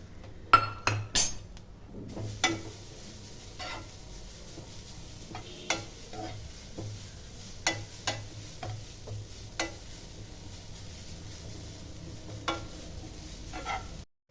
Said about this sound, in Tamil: தேங்காய் லேசாக வறுத்துக்கலாமா, ஏன்னா ஈரப்பதம் இருக்குது, கொஞ்சம் வறுத்துக்கலாம்.